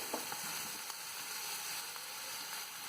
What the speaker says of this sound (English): Add onion, saute it.